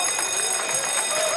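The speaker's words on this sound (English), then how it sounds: "Back in the red corner, there's that bell." A boxing bell rings out at the end of a round at a televised fight night, a sustained metallic tone over crowd noise.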